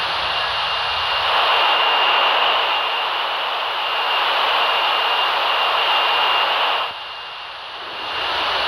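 Loud, steady aircraft engine roar, a broadband jet rush heard from inside a FedEx Flight 80 cockpit, dipping briefly near the end, with no talking.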